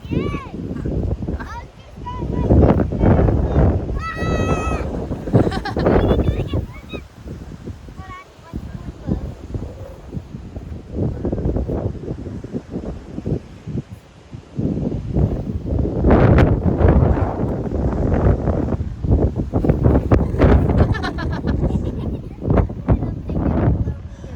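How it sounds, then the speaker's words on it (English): Strong gusts buffeting the microphone in an open field along the Appalachian Trail in central Virginia, a loud rumbling roar that surges and fades throughout while hikers talk over it. "The wind blew you over?"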